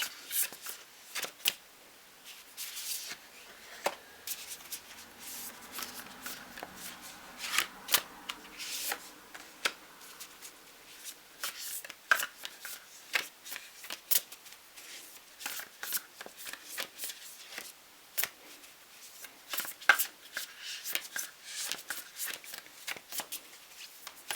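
A deck of Nature's Whispers oracle cards shuffled by hand, soft riffling and rubbing card sounds in irregular bursts over a long stretch, close up and fairly quiet, with no talking.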